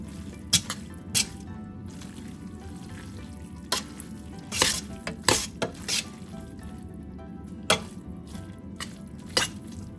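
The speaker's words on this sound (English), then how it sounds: "And now let us add the tofu and continue to mix it." Tofu is stirred into a pan with pesto, a soft steady sizzle broken by several sharp scrapes and clacks of a utensil against the pan, close and fairly quiet, with no talking.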